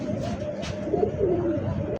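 A young pigeon gives a soft, close, rolling coo lasting about two seconds.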